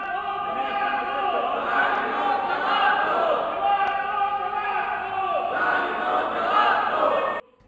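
Opposition members in the Sindh Assembly, MQM lawmakers massed before the dais in protest, chant slogans loudly and in unison, a dense crowd roar of rhythmic shouting that runs continuously and cuts off abruptly at the end.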